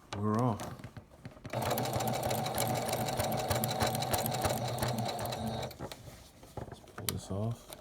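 A sewing machine runs in a steady sustained whir while back stitching quilt binding, with short bursts of talk just before and after the stitching.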